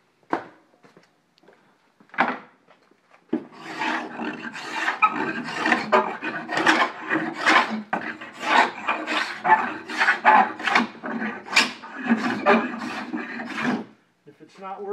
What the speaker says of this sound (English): this is a much sharper file, but you just gently go across in one motion all the way across, and you'll get that edge just right